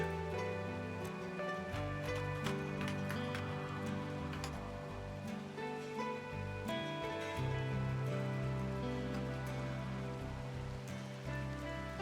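Steady rain patters continuously and faintly in the background, with a low tonal hum running underneath throughout.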